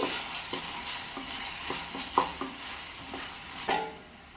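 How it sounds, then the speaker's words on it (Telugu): Onions and paste are stirred in a pan for gonguura cooking, giving soft scraping strokes every half second or so over a low steady sizzle, with a sharper clink near the end and no talk. "పేస్ట్ వేసుకొని మిక్స్ చేస్తున్నానండి"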